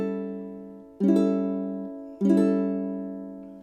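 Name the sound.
A7 chord strummed on a ukulele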